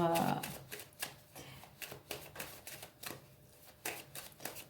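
Tarot cards slapping and sliding onto a table in a quick series of soft, close taps and brushes, with a louder shuffle-like rustle at the start and no talking.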